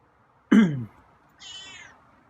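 A feral cat meows loudly up close, one sharp cry followed after a pause by a softer, higher second meow, eager for smelly fish.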